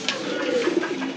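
Pigeons coo softly and continuously at close range, a low murmuring warble with no other sounds around it.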